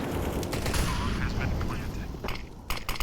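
Rapid bursts of gunfire crackle back and forth during a Counter-Strike match on the Ancient map, dense overlapping shots and cracks filling the mix under ongoing commentary.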